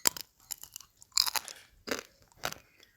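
Crisp crunching bites into an ice cream bar coated in a thin chocolate shell, several separate bites and chews up close with short crackly bursts and quiet pauses between them.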